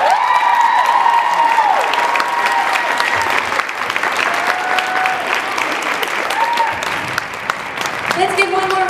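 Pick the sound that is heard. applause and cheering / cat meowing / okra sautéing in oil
applause and cheering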